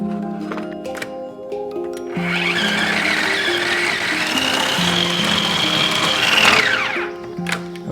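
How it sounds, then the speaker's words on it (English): A blender whirs loudly while blitzing dates and dried apricots into a paste, its motor droning steadily for several seconds under background music before winding down. "dried apricots, into my blender, and we'll blitz them until they form a paste"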